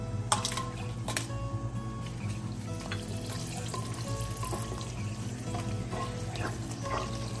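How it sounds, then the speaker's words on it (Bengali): Dried red chillies frying in hot white oil give a loud, steady crackling sizzle close by, broken by a few sharp pops near the start and faint clinks of stirring. "সাদা তেল দিয়ে এটা প্রথমে শুকনো লঙ্কাটা ভেজে তুলবো"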